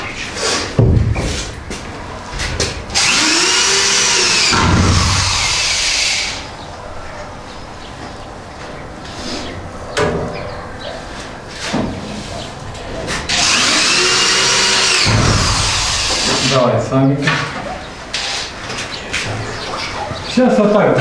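A power drill drives self-tapping screws into boards in two loud whirring bursts, one near the start and one later, with people talking nearby in between and over the work.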